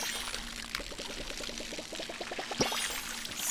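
Plants are watered in the video game Palia: a light, pattering pour of water with a quick run of rhythmic droplet ticks, moderately loud, with a brief splashy burst near the end.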